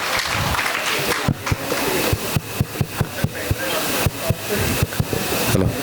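Audience applause at an SNDP 2024 celebration, a steady wash of many hands clapping with some individual sharp claps standing out, loud and sustained throughout.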